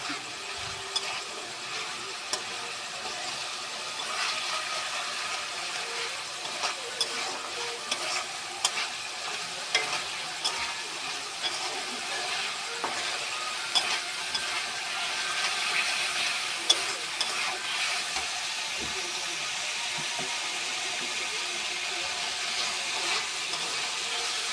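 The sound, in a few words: sautéing spices for chana dal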